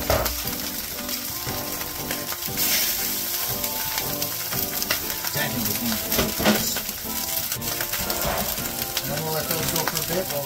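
Skin-side rainbow trout frying in hot oil, a steady close sizzle with crackling bursts throughout, under music.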